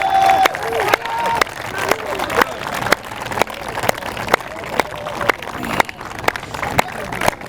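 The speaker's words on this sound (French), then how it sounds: "On acclame le Seigneur Jésus-Christ." Church congregation at a Christian revival gathering cheering and clapping in acclaim of the Lord, a dense crowd roar punctuated by sharp claps and shouts throughout.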